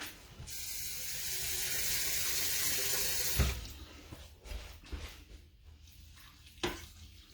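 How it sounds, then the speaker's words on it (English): Water pours steadily into a deluxe multi cooker over vegetable scraps for broth, a continuous rushing stream for about three seconds. A few clunks and knocks of handling follow. "I've got my water, I'm just going to pour that in here to where it has covering all the veggie ends"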